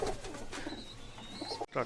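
Low, soft cooing of fantail pigeons close by in a pigeon house, a continuous murmur with a faint high whistle in the background.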